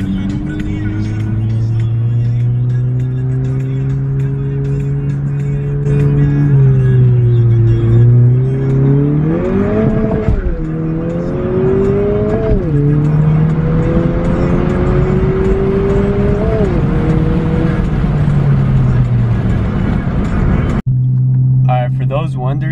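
A 2020 Honda Civic Si engine held against the brakes to build boost, a steady rumbling idle rising into a wavering rev with several climbs and dips, then settling back, loud and close throughout.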